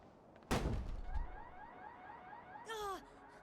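An alarm in the video game Dustborn blares in a short warbling burst right after a heavy thump, with a repeated electronic tone sounding faintly beneath.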